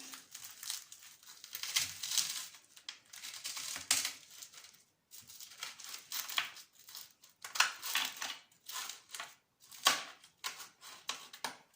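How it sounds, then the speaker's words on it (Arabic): Crispy mille-feuille pastry crunches and crackles under a knife in near, steady bursts of brittle crushing, like flaky layers shattering, repeated over and over without any voice. "تسمعوا في القرمشه"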